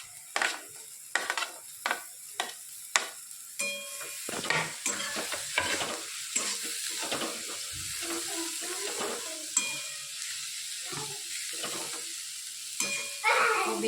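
Cabbage stir-fried in a hot pan, a sizzle with repeated scraping and stirring strokes, closely miked and fairly quiet.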